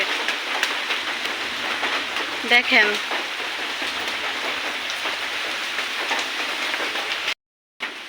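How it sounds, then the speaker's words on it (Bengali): Heavy rain pours down steadily and loudly, a dense hiss of drops; a voice speaks briefly, and the sound cuts out near the end. "আমাদের দিকে তো প্রচুর পরিমাণে বৃষ্টি নামতেছে"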